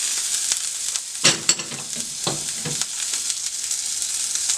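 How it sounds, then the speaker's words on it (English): Food sautés in oil in a pan for a copycat Maxwell Street Polish sausage, giving a soft, steady sizzle broken by a few sharper bursts and scraping stirs, close and moderately loud with no talk. "Saute that up."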